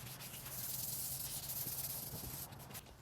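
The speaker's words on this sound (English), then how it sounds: "I'm using a really high grit, again 400 grit, just to sand over the primer and get it ready for the paint" A dresser's primer coat being sanded with 400 grit sandpaper, a continuous close hiss of rubbing strokes that eases off near the end, with no voices.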